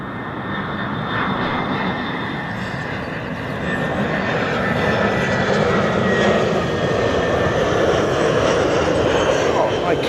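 EasyJet passenger jet from Belfast landing at Bristol Airport, a loud continuous engine roar with a whining tone, swelling slightly as the aircraft comes closer and holding steady throughout.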